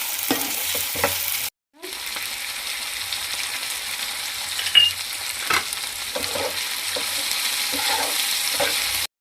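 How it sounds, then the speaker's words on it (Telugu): Carrots and peas fry and sizzle in a hot pan for Hyderabadi bhagara rice, a continuous close hiss broken by a brief silent gap and occasional stirring knocks. "క్యారెట్, బఠానీ ఇలా వేసుకొని బాగా ఫ్రై చేసుకుందాం."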